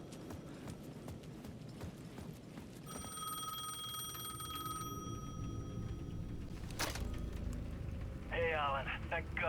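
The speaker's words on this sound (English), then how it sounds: "The payphone at the edge of the plaza was ringing again." A payphone in Alan Wake II rings with a bright electronic tone for a couple of seconds over steady background noise and footsteps, followed by a sharp noise burst.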